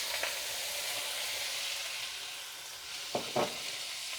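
Peppers and Shaoxing wine sizzle steadily in a hot wok, a constant hiss with a few scraping stirs near the end.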